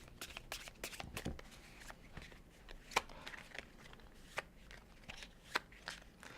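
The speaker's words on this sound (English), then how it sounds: "And of course, you should shuffle the deck fairly." Exploding Kittens cards shuffled by hand, a run of crisp riffling bursts and soft flutters with a few sharper snaps, close up and alone with no talk.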